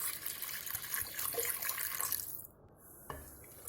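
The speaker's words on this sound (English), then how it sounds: "Add in water," Water streams steadily into a cooking pot for a jackfruit curry, a close, continuous pouring splash that stops suddenly, followed by a faint clink.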